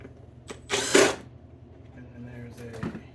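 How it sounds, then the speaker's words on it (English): A Skil power screwdriver backs out screws from a mounting plate in one short whirring burst, fairly close, followed by quieter handling noise and faint background hum. "I got my screwdriver already chucked up, so we're just going to pop it out like that."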